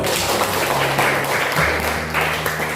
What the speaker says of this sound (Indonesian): Kita aplaus dulu untuk kita semua.